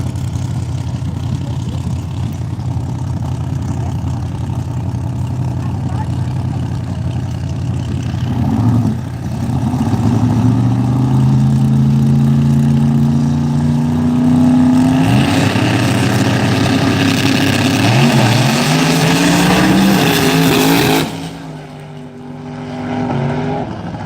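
Drag race cars at Hypoxia Dragway in Evanston, Wyoming, with a loud, sustained engine roar rising in pitch as the cars launch and accelerate down the strip, then cutting off abruptly near the end.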